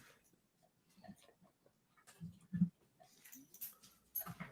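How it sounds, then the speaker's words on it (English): A needy dog whimpers and whines in short, soft bursts, with snuffling and faint movement between them, close and quiet in an indoor room. "It's one needy dog."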